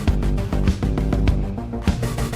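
Punchy electronic Counter-Strike 2 team selection music with rhythmic percussive hits and layered synth tones, loud and driving, no voices.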